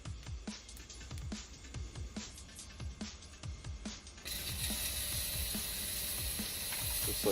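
An MLIKOEU 600W fog machine switching on in auto mode: rapid ratcheting mechanical clicks, then a sudden steady hissing spray of fog that continues to the end, close and fairly quiet.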